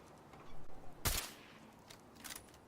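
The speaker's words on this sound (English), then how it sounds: "I'm going to get out the suppressed 50 cal rifle" A single suppressed .50 cal rifle shot in Fallout 4: Far Harbor, one loud, dense crack fading quickly, over a faint ambient bed with a couple of softer later noises.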